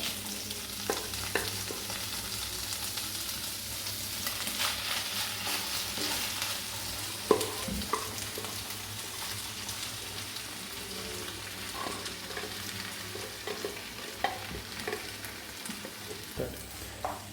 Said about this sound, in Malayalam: ഇതിന് നന്നായിട്ടൊന്ന് മിക്സ് ചെയ്ത് കൊടുക്കണം